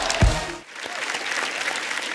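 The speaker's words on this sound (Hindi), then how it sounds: "जोरदार तालियां" Studio audience at a comedy talk show breaking into applause, a dense sustained patter of many hands clapping after a short low thump at the start.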